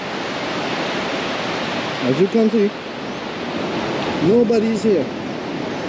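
Surf breaks steadily onto Maracas Beach, Trinidad, on a rainy, near-empty day, a continuous broadband wash heard close by, while someone speaks briefly twice over it.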